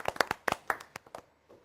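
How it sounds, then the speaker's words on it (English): A quiz show audience claps in a brief, sparse burst of a dozen or so distinct hand claps that quickly taper off. "So let's give ourselves a big round of applause for that."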